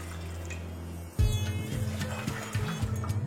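About three cups of boiled milk being poured into a pan for milk tea: a splashy liquid pour begins a little over a second in and carries on steadily, close and fairly loud over a low background hum, with no talking.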